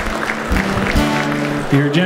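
Crowd applause after a live song at a benefit concert, a steady patter of clapping throughout, with a voice talking over it.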